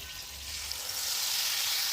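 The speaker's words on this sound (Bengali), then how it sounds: "ফোড়নটাকে দশ বারো সেকেন্ডের মতো একটু ভেজে নিয়ে" Black cumin, dry chillies and bay leaves fry in hot oil as a tempering for a fish curry, giving a steady, close sizzling hiss that holds evenly throughout, with no voices.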